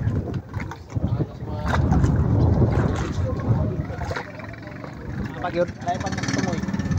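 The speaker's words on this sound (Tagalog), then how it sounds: "dito na yung sakyan natin na bangka mga idols" A motorized bangka boat arrives on the water near a fish cage resort in Surigao del Sur, its low engine rumble and wind buffeting the microphone while people talk nearby.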